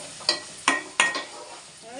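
Onions and green chillies fry in a pan for mutton gongura, a steady sizzle with a few sharp stir or scrape knocks of a utensil against the pan.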